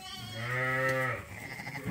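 A young lamb bleats once, a long wavering cry to its mother ewe in a sheep pen, close and clear, followed by quieter background noise.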